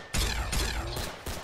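Rapid bursts of gunfire from a shooting video game, four loud broadband volleys in a stop-start rhythm, close and dense, with no speech over them.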